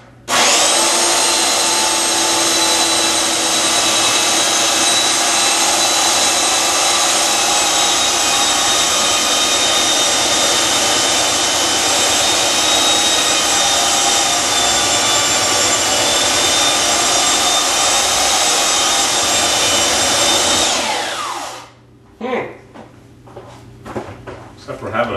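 A power saw cuts through a kitchen countertop in a long, loud, steady whine that holds for about twenty seconds before spinning down, followed by a few scattered knocks and handling noises.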